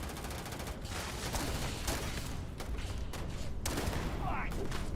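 Railgun fire in Starfield: several sharp gunshot-like bursts crack through a busy battle mix, some near and some farther off, with scattered voices under the shots.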